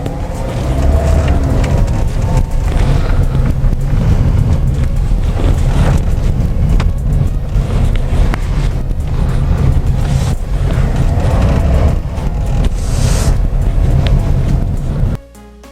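A Toyota Avanza car weaving in a zigzag on a limited course, with steady engine and road noise heavily buffeted by wind throughout.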